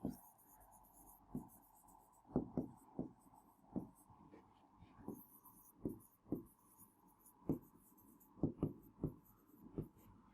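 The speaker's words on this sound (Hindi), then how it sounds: "यहाँ पे लिख लेते हैं।" Hand writing on a board during a Class 10 science lesson on light and mirrors, a series of distinct strokes and taps scattered through the clip with short pauses between them, close and fairly clear.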